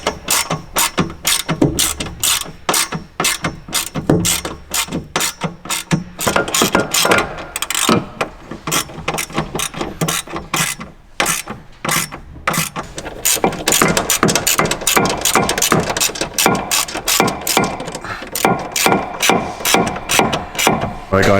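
A ratchet clicks in rapid, repeated bursts, close and loud, as bolts are tightened on a rear strut brace in a Mk2 Ford Focus ST, with short pauses between runs.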